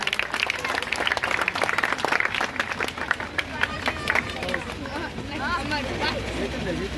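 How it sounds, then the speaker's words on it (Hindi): A crowd at the inauguration of a Durga Puja fair claps steadily and densely, a continuous wash of applause with outdoor fair noise beneath, gradually thinning toward the end while a voice comes through. "एक बार जोरदार तालियों से स्वागत किया जाए।"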